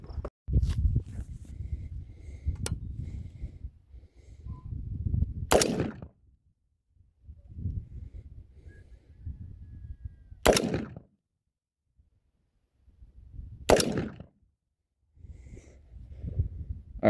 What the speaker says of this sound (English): now we're doing some prone shooting from around the same distance